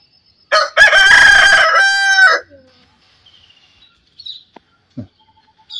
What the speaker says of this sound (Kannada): ಅಂದರೆ ನಮ್ಮ ಹತ್ರ ಇರುವಂಥ ಕೋಳಿಗಳಲ್ಲಿ ಸೂಪರ್ ಆಗಿದೆ ಈ ಹುಂಜ